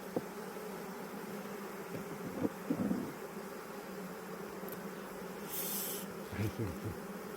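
Honeybees buzz in a dense, continuous hum around opened beehives during winter hive management, with faint rustling and handling noises underneath.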